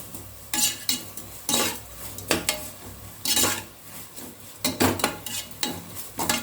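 Chicken biryani ingredients sautéing with salt in a pot, a quiet sizzle broken by bursts of metal spoon scraping and clanking against the pot at irregular intervals, close and without talk.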